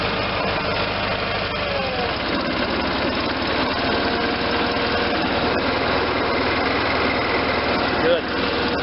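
A Case Ingersoll garden tractor engine runs at dead slow throttle with a rebuilt deck fitted, a steady close mechanical drone with a faint high whine, and a voice speaks briefly over it.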